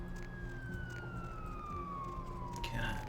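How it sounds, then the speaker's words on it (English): A police car siren wails in Vampire The Masquerade Bloodlines, a steady falling tone heard at moderate distance over low city ambience. "There's a police car"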